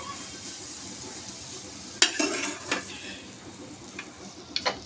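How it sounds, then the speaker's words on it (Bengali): Vermicelli (semai) stirred with powdered milk in a hot pan, a low sizzle underneath and a burst of scraping, clinking spoon strokes partway through, close and clear. "দুধটাকে দিয়ে এখানে ভালো করে সেমাইয়ের সাথে মিশিয়ে নিব"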